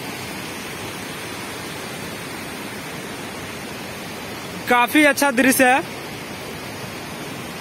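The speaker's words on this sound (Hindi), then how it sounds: "बहते पानी का आवाज पत्थरों के बीच से आता हुआ," Steady rushing water flows over rocks throughout at Hundru Falls near Ranchi, India, a constant broadband wash, with a brief burst of speech near the end.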